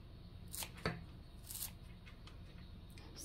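Scissors snip through fresh herb stems in a home kitchen, a few sharp, quiet cuts spaced apart with light handling noise between them.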